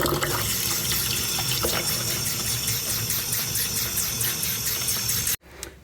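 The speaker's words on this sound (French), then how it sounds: "je vais le faire directement du robinet" Tap water pours in a steady, close gush into the tank of a ProWin i-Drop appliance, running continuously before cutting off abruptly near the end.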